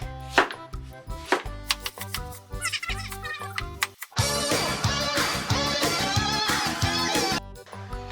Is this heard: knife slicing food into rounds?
yes